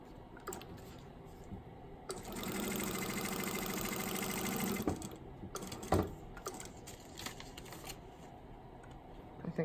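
Sewing machine stitching fabric along a seam line, a continuous mid-pitched mechanical whir running for a few seconds between quieter handling clicks and rustles, close and moderately quiet.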